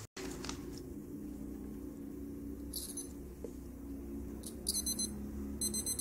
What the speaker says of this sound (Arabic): لأنه هذا هو الصوت التي تصدره أو يصدرها هذا المنبه كما تسمعون